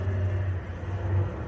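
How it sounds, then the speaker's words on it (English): A loud truck passing outside makes a deep, steady rumble, heard alone and fairly close without any talking. "Why are trucks so loud?"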